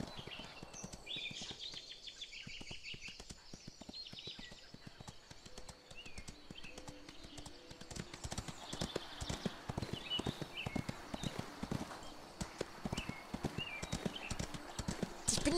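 Hooves of a horse galloping in the Ostwind horse video game, a rapid rhythmic clip-clop that starts lighter and grows louder and denser in the second half, with faint bird calls and chime-like game sounds around it.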